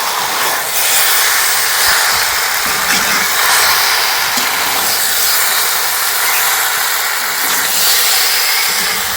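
Young jackfruit sautés in a pan, a loud, close, steady hiss and sizzle running throughout with occasional faint scrapes and knocks underneath, no voices.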